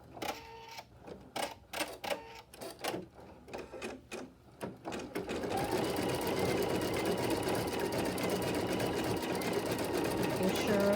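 Clicks and brief mechanical taps as a sewing machine is set to a decorative stitch, then the machine sews it in a continuous, steady run lasting several seconds.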